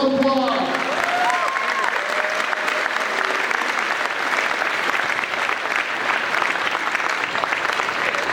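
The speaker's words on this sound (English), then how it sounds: "Give them one more round of applause." Sustained applause from a large audience at a school assembly, a dense continuous wash of clapping holding steady throughout, with a few voices calling out at the start.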